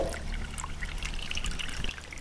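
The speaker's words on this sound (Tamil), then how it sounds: "இப்போ நம்ம ஃபில்டர் பண்ணி வச்சுக்கலாம்." Homemade rose water strained into another vessel, a steady thin trickle of liquid pouring continuously, fairly faint and close, with no talking.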